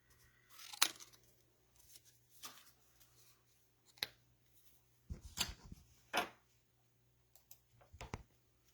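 Scissors snip around a stamped paper rabbit in short, quiet, irregular bursts of cutting and paper rustle, close and faint, separated by pauses and with no talking.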